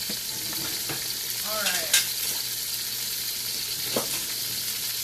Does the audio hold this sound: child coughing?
no